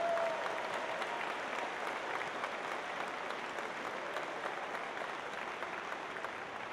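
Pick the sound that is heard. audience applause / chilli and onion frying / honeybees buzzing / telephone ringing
audience applause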